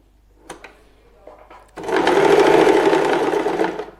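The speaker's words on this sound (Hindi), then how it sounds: "अब जैसे मैंने इस कोने पे मशीन घुमाई और सिलाई लगाई" An electric sewing machine stitches mattress cloth for a small handmade mattress. A few short, close stitching bursts come first, then a steady run of rapid stitching that stops abruptly, with no talk.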